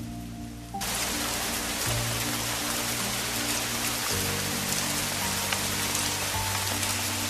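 Steady rain pours down in a dense, even hiss, with low rumbling tones underneath; no voices.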